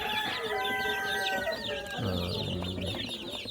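Native backyard chickens, mostly black birds with a few Rhode Island Reds, clucking and calling close by in a steady chorus, with a short crow-like call near the end.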